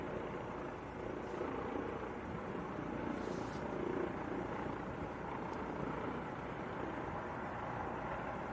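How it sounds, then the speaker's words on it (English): An EC-55 helicopter drones steadily at a distance, a low continuous rotor and engine rumble with no voices. "EC-55 is the helicopter."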